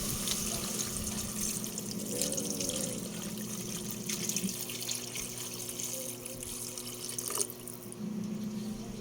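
Broth pours into a pot of sinigang pork stew with liempo and taro, a continuous watery splashing and trickling under a steady background hum at moderate distance.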